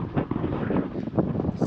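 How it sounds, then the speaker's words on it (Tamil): Strong wind buffets the microphone at a hill viewpoint in Valparai, a continuous rough roar with gusty surges, loud and close, with no voices. "அந்தளவு காற்று அடிக்குது."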